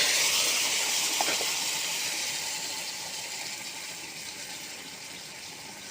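Tempering (bagar) hits a hot pan with an intense, close, hissing sizzle that starts loud and slowly fades over several seconds, with no voices.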